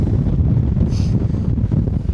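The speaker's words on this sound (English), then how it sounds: "It's a windy place. Very windy." Strong wind roars and buffets the microphone on an exposed Dartmoor hill, a heavy low rumble, continuous and loud, with no one speaking.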